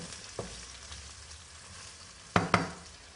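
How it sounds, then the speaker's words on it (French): Quartered cherry tomatoes sizzle and fry quietly in a pan over reduced heat, with a few sharp clinks and scrapes from a gentle stir near the end. "Je remue délicatement."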